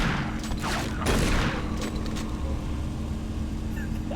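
Rocket launcher fire and blasts in DOOM 3, a dense burst of explosive booms and rumble with a sharp surge around the one-second mark, loud and continuous under game noise.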